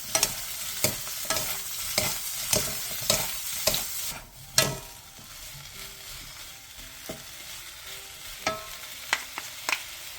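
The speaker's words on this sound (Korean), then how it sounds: "팬에 기름을 두른 뒤 물기를 뺀 도라지와 다진 마늘 1스푼, 소금 1티스푼을 넣고 중불에서 2분 정도 볶아주세요." Drained bellflower root stir-frying with minced garlic and salt in an oiled pan over medium heat: a steady close sizzle broken by repeated scraping stirs of a utensil against the pan, with no voices.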